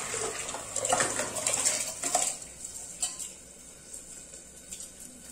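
Water is poured into a pot of rice for ven pongal, a splashing, sloshing pour that is loudest for the first two seconds and then settles into quieter trickling and faint clinks of cookware.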